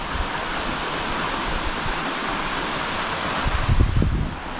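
Waterfall beside a large rock pool in France, a steady broadband rush of falling water heard alone and fairly loud, with a brief low thump near the end.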